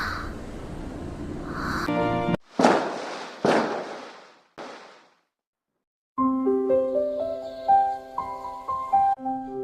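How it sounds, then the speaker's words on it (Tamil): Firecrackers go off for a New Year celebration, a rapid string of pops followed by three or four loud separate bangs. After a silent pause, light music begins. "பட்டாசு நாமளும் வெடிக்கலாம்."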